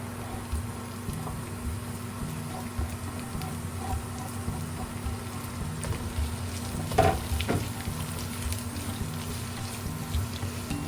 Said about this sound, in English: Then add 2 small to medium sized sliced red onions.